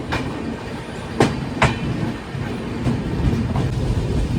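Mandovi Express rolling along the Konkan Railway between Chiplun and Thivim, with a steady rumble of wheels on track and a few sharp clanks from the rail joints. Heard close, from on board, with no talk.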